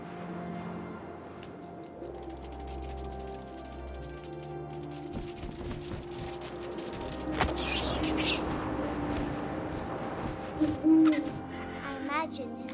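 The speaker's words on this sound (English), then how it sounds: "And suddenly, I was an owl." Owl hooting in the video game What Remains of Edith Finch, set over a soft game score with wind and rustling, swelling louder toward the end with sharper bird-like calls.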